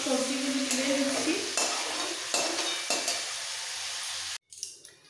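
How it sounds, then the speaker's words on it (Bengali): Chopped vegetables fry lightly in oil in a pan for khichuri, with a soft sizzle and a few stirring scrapes that fade toward the end after a brief clatter. "সবজি ভাজা হয়ে গেছে, এরকম হালকা করে ভেজে নিতে হবে।"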